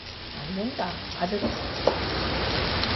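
Pork belly sizzles and crackles steadily in a pan, close by, with soft stirring and scraping under a low murmur of speech.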